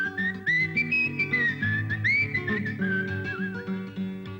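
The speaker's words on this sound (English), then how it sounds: "It is very easy to whistle all the day long." A person whistles a bright, wavering tune over a soft musical accompaniment, the melody clear and up front throughout.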